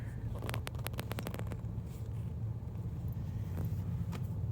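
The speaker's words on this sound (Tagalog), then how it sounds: "May mga dumadaan na sasakyan." Cars pass along Marine Drive in Guam, a steady road rumble with a busier stretch of passing traffic early on, no talk.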